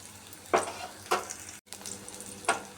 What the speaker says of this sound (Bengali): গ্যাসের আঁচটা একদম কম করে ধীরে ধীরে লাল লাল করে ভাজতে হবে কাকুলের পুরগুলাকে